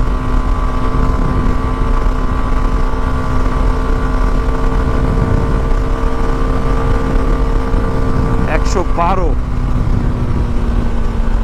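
A CF Moto SR250 motorcycle cruising at high speed and high revs in sixth gear: a loud, constant engine drone with steady harmonic hum and rushing wind noise that never lets up.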